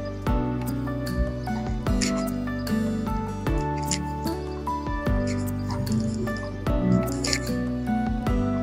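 Warm dough for dudh puli pitha is pressed and kneaded by hand, giving close, continuous squishy, sticky slaps in a loose rhythm, with background music throughout.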